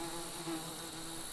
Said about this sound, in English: That wasp came out and now they're fanning their hive.